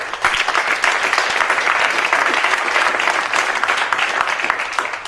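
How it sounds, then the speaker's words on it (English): A big round of applause from a conference audience for a panel at a Nordic digital forum. Clapping is loud, dense and continuous for about five seconds, with a few sharper individual claps near the start and no speech. "a big round of applause for our panel"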